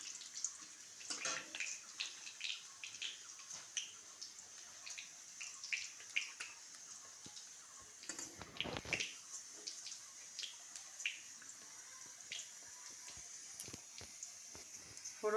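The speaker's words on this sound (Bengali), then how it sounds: "এবার জিরে, তেজপাতা ফোড়ন দিলাম।" Cumin seeds and bay leaves tempering in hot oil, giving a steady, fairly quiet sizzle with scattered sharp crackles and pops throughout, with no talking.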